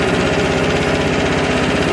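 An MTD Yard Machines 5.5HP 24-inch snow blower engine runs at a steady idle, close and loud, with an even chugging pulse throughout and no voices.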